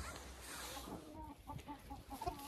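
Hens in a bedded coop chatter and cluck softly, a loose run of short, close calls over a steady background hum with no talk.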